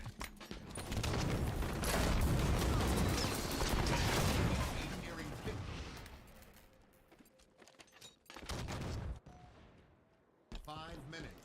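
Halo 5 video game combat with bursts of gunfire and a grenade, dense loud firing in the first half that thins into scattered shots and mechanical clatter, with players talking over it.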